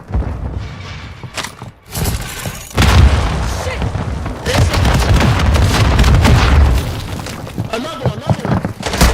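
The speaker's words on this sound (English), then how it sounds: "Throwing a stun grenade!" Stun grenade going off in Call of Duty DMZ, a sudden loud broadband boom followed by sustained crashing game noise and scattered bursts, with players talking over it.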